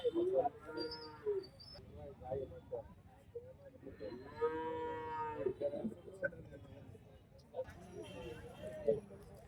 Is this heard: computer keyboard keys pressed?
no